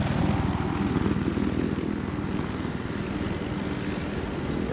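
Helicopter flying in the Battlefield 4 test range on PS4, a steady loud rotor and engine drone with rhythmic low blade chop throughout, no talk.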